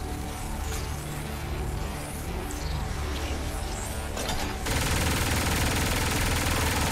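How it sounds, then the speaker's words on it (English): Automatic gunfire in Saints Row 4 plays as a steady sustained barrage, dense and loud throughout, and grows louder near the end. "He's gonna keep shooting."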